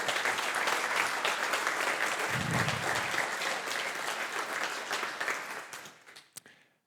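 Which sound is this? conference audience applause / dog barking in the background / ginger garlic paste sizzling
conference audience applause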